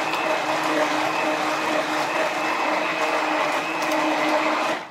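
Steady, loud whirring hum of a stick blender mixing cold-process soap batter toward medium trace, continuous and close for the whole stretch with no talk, stopping abruptly at the end.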